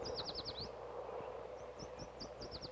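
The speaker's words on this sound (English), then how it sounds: "In our gardens, we often hear the yellow warbler." Bright, rapid whistled phrases of a yellow warbler singing in a garden dooryard, a sweet run of descending notes followed by several shorter chirped phrases, moderately near over a steady low background hum.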